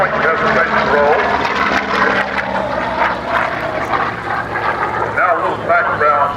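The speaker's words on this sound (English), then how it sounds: "Ship coming by this time with a point hesitation roll." A warbird at the Thunder in the Valley airshow in Columbus, Georgia passes at about 300 mph doing a point hesitation roll, its steady engine roar filling the air under an announcer's voice on the PA.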